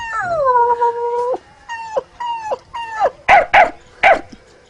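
A man imitates a dog with his voice, first a long drawn howl-like whine, then a run of short yelping barks that grow louder and sharper, close and alone.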